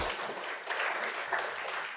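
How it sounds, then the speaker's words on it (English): A crowd at a spiritual gathering claps in a steady, sustained wash of many hands, heard at moderate level from a little distance, without distinct individual claps standing out. "Friends, give her a big clap."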